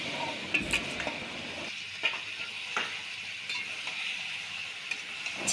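Marinated chicken sizzles steadily in masala in a pan while a spoon stirs it, with occasional scrapes and light clinks over the continuous frying hiss.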